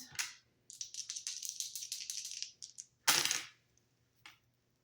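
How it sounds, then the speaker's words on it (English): Dice rattling and clattering on a hard surface in quick bursts, close and fairly loud, ending with a few sharp taps; no voices. "rolling the dice to see what I need to shuffle the deck to"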